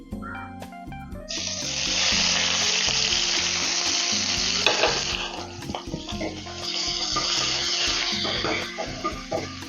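Three dried red chillies hiss loudly in hot oil, the sizzle surging after a quiet opening and holding steady with small clinks and crackles for about eight seconds.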